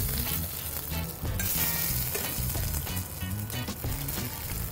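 Something frying in hot cooking oil, a steady dense sizzle running throughout with a low rumbling layer underneath, close and fairly loud, no talking.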